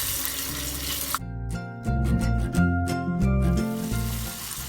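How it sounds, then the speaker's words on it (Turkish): Tomato paste sizzling in oil in a pan for Ezogelin soup, a steady frying hiss that turns into brighter crackling and popping bursts partway through, close and moderately loud, with no talking. "ve 1 yemek kaşığı domates salçasını alıyoruz ve biraz kavuruyoruz"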